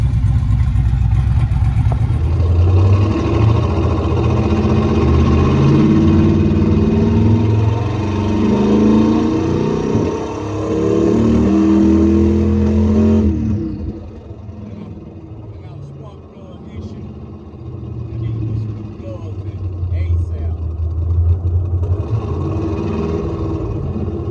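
An LS twin-turbo engine with a blow-through carburetor and MSD 6014 ignition runs and revs loudly and steadily, its rumbling drone rising and falling in pitch before easing to a lower idle. Someone talks over it.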